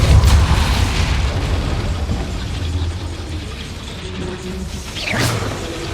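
A Depulso force spell is cast in the video game Hogwarts Legacy inside a goblin mine, giving a deep booming burst with mechanical rumbling, followed by a sharper swooshing pop near the end.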